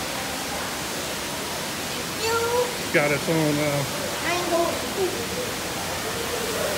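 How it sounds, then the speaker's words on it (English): A small waterfall beside a hot tub at the Bavarian Inn, a steady soft rushing hiss of falling water heard throughout, while voices talk briefly over it in the middle. "It's got its own waterfall."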